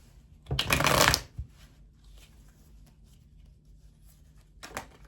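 A deck of tarot cards shuffled in one brisk riffle burst up close, followed by quiet handling and a second short flutter of cards near the end, with no talking.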